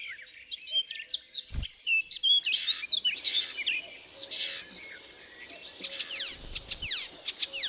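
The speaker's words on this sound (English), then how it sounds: "The icterine warbler, which has finished raising its offspring, still eagerly sings its rich melody in a quick tempo." An icterine warbler sings a fast, varied, chattering melody of quick notes and whistles, close and clear against quiet surroundings at a forest edge.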